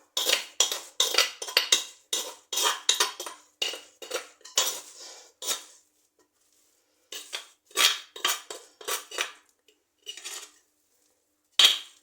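Homemade cheese curds pour onto a plate in quick bursts of light clinking and scraping, broken by short pauses, then a few more scattered clatters.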